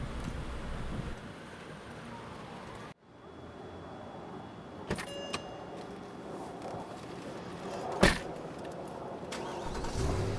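A car engine cranks and catches after a short silence, then idles and drives on as a steady low rumble with a few sharp clicks and thumps, faint and muffled as if heard from inside the car.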